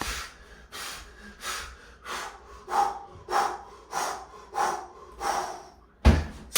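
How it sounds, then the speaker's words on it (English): Heavy, effortful breaths during a calisthenics upper-body workout repeat in a steady rhythm, close and forceful, about one every second, ending with a sharp exhale. "You can hear the breathing, and that's how you grind."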